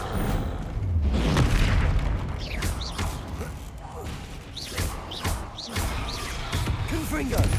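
Repeated spell blasts from the Confringo curse in the Hogwarts Legacy game, booming bursts landing one after another amid a dense, loud battle mix, with voices calling out over them.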